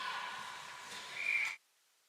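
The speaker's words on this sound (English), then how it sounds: "Wait, now we get a whistle." A referee's whistle at a high school ice hockey championship game gives one short, fairly faint blast above distant arena murmur. The sound then cuts to silence.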